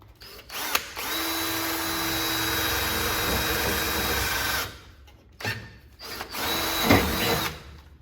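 A power drill whines at high speed in two long bursts, drilling a tail light panel mock-up for a Fiat 131 Abarth, separated by a brief quiet gap with small clicks and handling noise.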